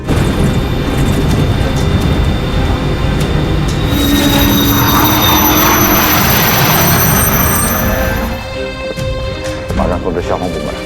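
An aircraft engine in a TV drama produces a loud, sustained whining roar with piercing high tones. It holds steady for about eight seconds, then eases off somewhat.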